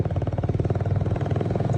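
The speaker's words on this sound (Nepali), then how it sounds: "स्टकमा नि यस्तो पड्किन्छ हाम्रो बाइक" A stock, unmodified motorcycle engine on a ride toward Palpa, chugging in a close, rapid pulsing rhythm with popping beats, loud and steady with no voices.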